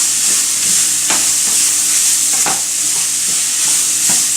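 Chopped zucchini sizzles steadily in a hot pan, with a continuous bright frying hiss broken by several distinct scraping strokes of stirring, close and loud, with no talking.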